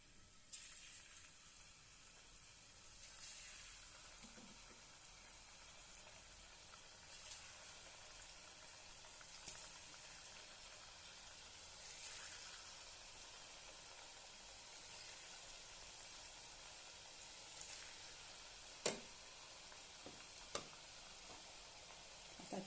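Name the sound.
rice flour chip strips frying in oil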